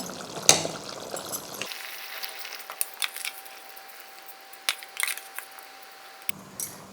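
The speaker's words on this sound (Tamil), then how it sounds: "தண்ணி நல்லா கொதிச்சு வந்துடுச்சு." Water boils in a pot being prepared for vegetable biryani, with steady close bubbling and scattered small pops and crackles throughout.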